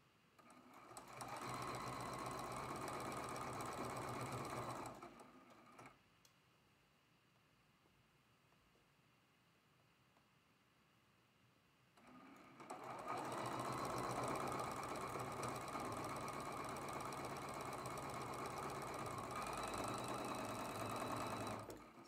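A sewing machine runs steadily up close while sewing a quilt block seam, pausing for several seconds in the middle before resuming at full speed.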